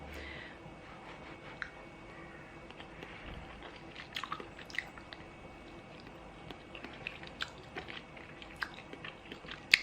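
Someone chewing a hot, freshly cooked okra dish that is still slightly crunchy: soft wet mastication with occasional small crunches and clicks, close to the mic, steady over several seconds without speech.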